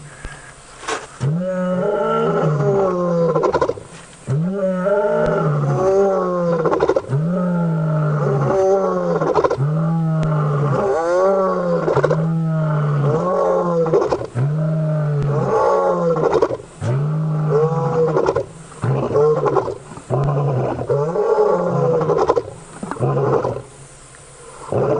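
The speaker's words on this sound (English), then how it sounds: "Another roar." Lions roaring at night on a safari drive, a long series of deep, loud grunting roars repeating in steady rhythm, close by, with a car nearby.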